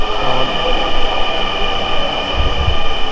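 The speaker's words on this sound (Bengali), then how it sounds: "আমাদের মেট্রো চলে আসছে" Loud rumbling of a Dhaka MetroRail train arriving at a station close by, with a steady mechanical hum and deep low thumps as it rolls in.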